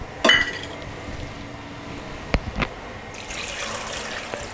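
Water pours into a pot of chopped spinach and green chilies for dal, a soft steady splashing flow after a sharp clink of utensils, with a few metallic knocks in between.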